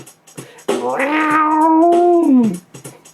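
A long, loud, close meow, held for nearly two seconds with a drawn-out falling end, set between shorter, fainter sounds before and after; a voice imitating a cat in a song parody.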